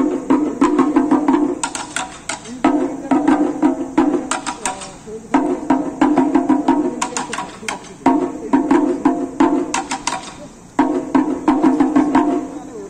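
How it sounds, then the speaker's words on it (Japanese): The Japanese festival drum rhythm okame plays loud and close as a driving, repeating pattern of drum strikes, with bright metallic hits and a sustained melodic tone layered over it. The phrases recur in cycles for the whole stretch. "では、まず最初におかめというリズムを聞いてもらいましょう。"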